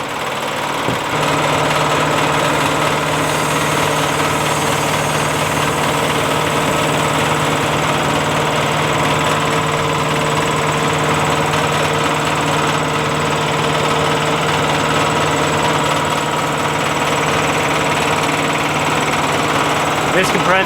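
A 6,000 psi air compressor made in West Virginia by American Airworks runs steadily and loudly up close, a continuous mechanical drone with a rattling, knocking engine vibration throughout, while a person talks over it.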